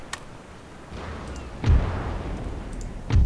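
Ship cannons fire in a naval battle game, two heavy booming blasts about a second and a half apart over a low rumbling background.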